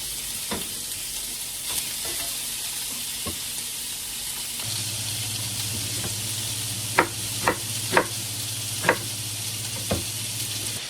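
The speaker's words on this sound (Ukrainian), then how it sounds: "А поки я прожарую сало" Pork fat (salo) sizzles and fries in a pan with a steady bright hiss throughout, joined by a low hum midway and several sharp clinks of stirring near the end; no voices.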